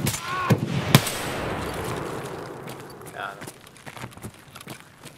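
Two sharp, close gunshots crack in quick succession inside a shooter video game, followed by quieter movement and scuffling while someone talks over the scene.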